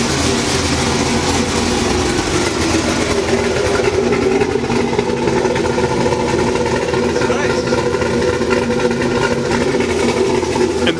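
A 6.0L Trans Am's engine runs steadily, heard from the front of the car as a constant mid-level mechanical hum and rumble with no exhaust note, close and continuous throughout.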